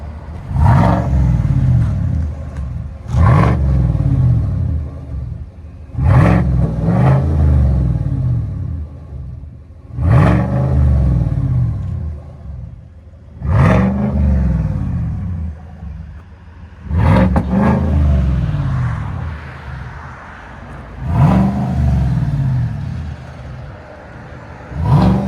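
A 2020 Chevy Silverado 6.2L V8 with a Borla Atak crate muffler revs repeatedly outside, eight loud, deep exhaust bursts rising and falling at a steady rhythm, close by with no talking.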